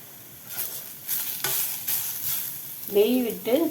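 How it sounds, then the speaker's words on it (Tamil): Radish sautéing in a little ghee in a kadai, with soft sizzling and a few scraping stirs of a spoon, then a brief voice near the end. "ஒரு கடாயில் கொஞ்சமாக நெய் சேர்த்து இதை வதக்க போகிறோம்"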